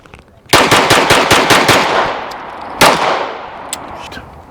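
A Canik TP9SF pistol fires about eight quick shots in a rapid string at an outdoor range, loud and sharp with ringing echoes, followed by a single later shot and faint distant pops.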